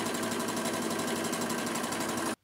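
A sewing machine stitching a disposable gown runs in a fast, steady, close mechanical rattle, then stops abruptly at the end.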